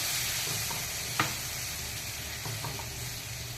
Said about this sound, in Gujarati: તો જો ફ્રેન્ડ્સ આપણો વઘાર થઈ ગયો છે હવે એમાં ગરમ પાણી એડ કરું છું